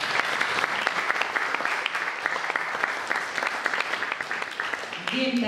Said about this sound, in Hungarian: Egy tapsot kérlek.